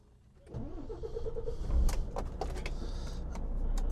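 A car engine cranks and fires up at close range, settling into a low, steady running hum, with a few light clicks and knocks over it and no talk.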